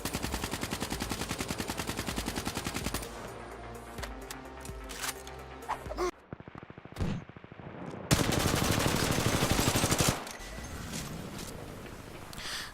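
Automatic assault rifle fire from two shooters, Titanfall 2 and Black Ops 3, rapid sustained bursts alternating with short pauses and sharper single reports, loud and close with no talk.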